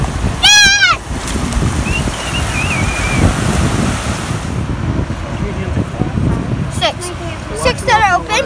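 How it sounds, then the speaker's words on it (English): Ocean waves breaking on a beach give a steady windy roar throughout, with children's high voices and talk over it. "Nick, are you having fun with the ocean"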